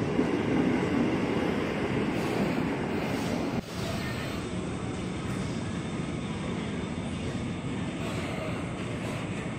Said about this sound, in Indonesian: Ini dia masuk komuter tujuan Jakarta Kota